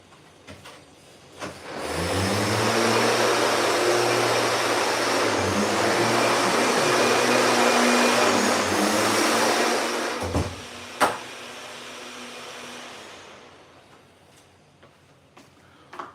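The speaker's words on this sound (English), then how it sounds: "Guys with fucking weed blowers in the hallways." A leaf blower runs in an apartment hallway, a loud steady motor roar with a droning hum that starts abruptly, holds for about eleven seconds with a sharp knock partway through, then fades off.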